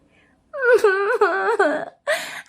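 A voice actor imitates a hungry child crying in an animated Hindi story, giving a close, loud wailing whimper that rises and falls in broken sobs, then pauses briefly before another cry.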